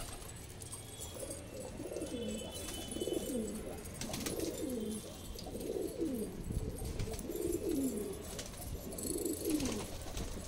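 Pigeons cooing in a loft, a series of soft repeated coos in an uneven rhythm, fairly faint and close, with light background noise and no talking.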